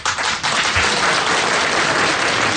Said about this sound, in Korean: 별 얘기 안 했는데 박수를 치시네요.